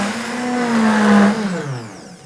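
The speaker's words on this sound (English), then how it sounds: "So a lid back on to the blender jug." A blender whirs on high through chia pudding with banana and fresh coconut, a loud close motor tone that rises in pitch, holds, then dips and fades over about two seconds, with no talk.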